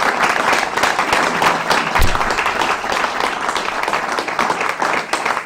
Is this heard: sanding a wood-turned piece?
no